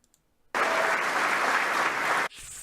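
Loud, dense applause from a crowd starts abruptly and holds steady for close to two seconds, then cuts off sharply, leaving a faint remainder.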